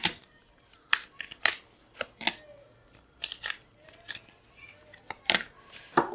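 Tarot cards being shuffled by hand, a series of crisp, brief riffling and snapping bursts close to the microphone, separated by short pauses.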